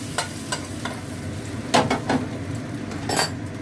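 Curry leaves are tempered in ghee for a vegetarian potato dum, with a steady sizzle under scattered stirring scrapes and light clinks of a utensil against the pan, close by.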